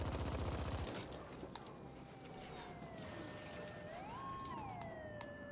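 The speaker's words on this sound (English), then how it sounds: "now sirens are starting to go off because how much I've destroyed this place" Wailing police sirens rise and fall in a sci-fi action video game after a burst of rapid gunfire at the start, the sirens sounding fairly distant behind scattered game effects.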